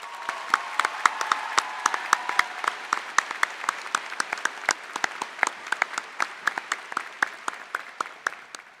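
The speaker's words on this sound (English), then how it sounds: "So let's give them a big round of applause." Audience applause at the Corvallis High School 2026 graduation ceremony. It begins full and steady, then thins over several seconds into fewer, more separate claps.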